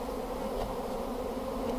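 Honeybees buzz in a dense, steady swarm as they are cleared from honey supers on a stacked hive, a close, continuous drone with no pauses or voices.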